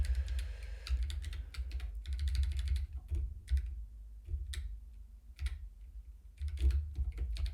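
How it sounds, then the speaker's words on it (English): Fingers tap steadily on a computer keyboard, a close run of quick, uneven key clicks in short bursts with brief pauses, heard alone with no speech. "Am I typing the wrong key here?"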